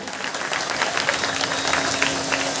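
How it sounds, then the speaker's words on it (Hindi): Enthusiastic audience applause in a hall during a poetry gathering, a dense, even wash of clapping throughout. "जोरदार तालियों से करे।"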